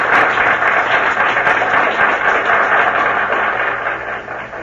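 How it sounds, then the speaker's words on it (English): A theatre audience applauding a stage play's curtain call, a dense, even wash of clapping that holds steady and then begins to fade at the end, heard as in an old radio drama. "Couldn't have been so terrible if the audience is still applauding"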